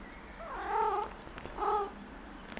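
A cat gives two drawn-out, wavering meows in a home kitchen, a soft rumble beneath, with no talking.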